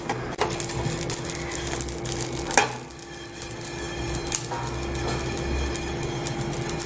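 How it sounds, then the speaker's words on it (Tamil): Whole spices for a Chettinad chicken curry crackling and popping while dry roasting in a hot pan, scattered sharp snaps over a low steady hiss, close by, with one louder pop partway through. "நல்லா இது மாதிரி வெடிக்கிற சத்தம் கேட்கணும்."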